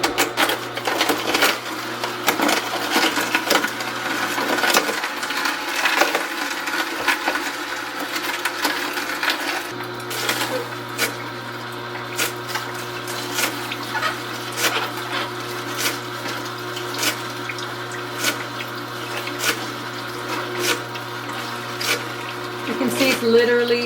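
Kuvings REVO830 whole slow juicer grinding carrots and celery, a continuous mechanical whir with crunching and cracking as the vegetables are sliced, a steady motor hum under it.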